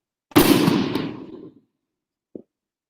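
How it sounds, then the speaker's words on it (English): A single loud bang outdoors in an urban neighborhood, either a firework or a gunshot, with a sharp attack and a rolling echo that fades over about a second, then a faint small pop afterward. "That's fireworks or gunshots, one or the other."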